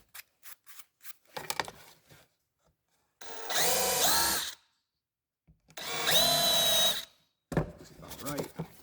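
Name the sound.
countersinking screw holes in RC car front bumper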